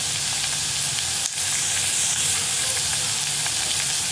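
Fresh turkey berry curry fries in a pan with a loud, dense, continuous sizzle, briefly broken by a short dip as it is stirred, close and without speech.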